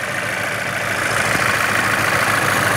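A Volkswagen 1.4 TSI car engine idles steadily and fairly loudly at close range, a constant even hum with no change in pitch.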